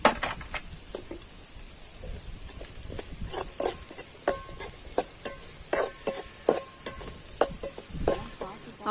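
Small onions sauté in a pan for a village-style mushroom fry, a constant sizzle punctuated by frequent sharp spatula scrapes and taps against the pan.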